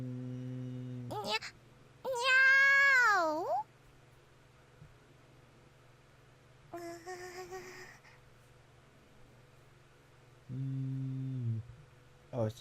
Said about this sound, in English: Oh, it's just a cat, huh? It's just a troublesome cat.